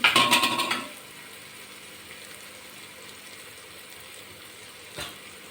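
Turmeric goes into a hot oil tempering for moong dal khichdi, producing a short loud sizzling burst that quickly dies down to a faint hiss, with one soft clink near the end.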